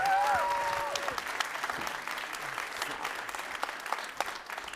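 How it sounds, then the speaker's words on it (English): Audience applause welcoming speakers at a pharmacy eRx conference session, a broad wash of clapping that starts loud and gradually thins toward the end, with a brief voice near the start. "please welcome, with a warm round of applause, Kanchi Navaratnam"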